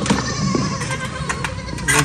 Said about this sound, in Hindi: ये जो बकरी कल बैठी हुई थी जनाब, ये भी उठ गई है।